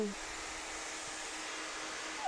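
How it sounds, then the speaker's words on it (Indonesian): A hair dryer fitted with a concentrating nozzle blows steadily during a salon hair-smoothing treatment, a constant airy whoosh with a faint motor whine, fairly quiet and even throughout. "menggunakan alat bantu hair dryer plus nozzle-nya"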